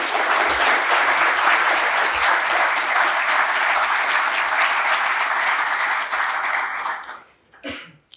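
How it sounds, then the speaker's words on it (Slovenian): An audience at a Slovenian National Council plaque award ceremony applauds loudly and evenly for about seven seconds, then the clapping fades out to a few stray claps. "gospoda Marka Lotriča, ki mu boste gotovo glasno in navdušeno zaploskali."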